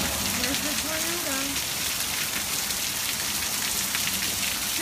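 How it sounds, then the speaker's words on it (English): Heavy rain pours steadily on a Dayton street in a dense, loud hiss, with a faint voice briefly audible beneath the downpour. "is raining so hard."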